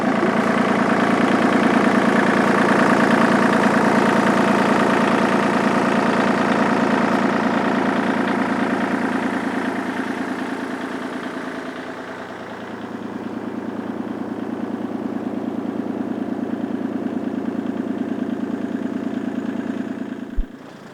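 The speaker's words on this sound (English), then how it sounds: "Thank God we have a tractor." A tractor engine idles through a snowy Alaskan winter storm, a steady low rumble that stays loud and close, dipping slightly midway before settling back to an even drone.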